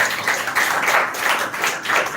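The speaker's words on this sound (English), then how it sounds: "clap for him." An audience applauds a speaker at a school event on women's education, a continuous dense patter of many hands clapping, fairly loud and close, with no talk over it.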